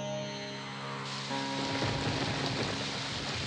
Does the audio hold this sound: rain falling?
yes